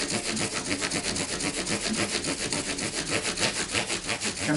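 A recycled oak and ekki Telecaster guitar body is polished by hand during a setup, the cloth rubbing in quick, regular back-and-forth strokes that sound close and steady, with no speech.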